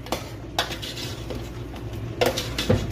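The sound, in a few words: stirring ingredients in a cooking pot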